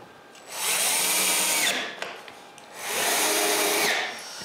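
A power drill drives screws into a piece of plywood cut at 45 degrees, part of a camera mount for ceiling beams: two loud, sustained whirring bursts of about a second and a half each, close by, separated by a short pause.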